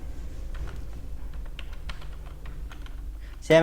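Rapid, light keystrokes clatter on a computer keyboard while text is typed into an MS Word invoice, a soft continuous patter ending in a brief louder knock.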